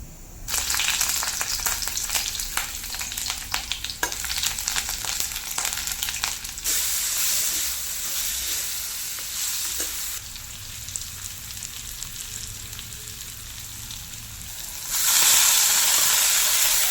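Lehheti leafy greens, freshly picked, fry in a hot pan with a steady loud sizzle and hiss, the crackle softening in the middle and flaring up sharply again near the end; no voices.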